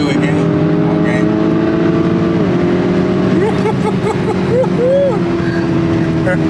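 Small blue car moving in traffic, a steady engine hum with passing vehicle noise and shifting tonal whines, continuous and fairly close throughout.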